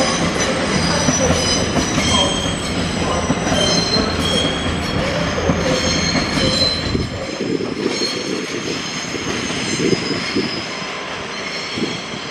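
A train passes through York station with a loud, close rumble of wheels on rails and high metallic wheel squeal. The rumble eases partway through while squeals and clatter carry on.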